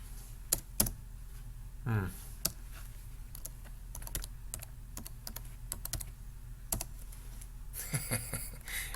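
Someone types a password on a computer keyboard: scattered sharp key clicks in uneven bursts, close and moderately loud, with brief other handling noises and no speech.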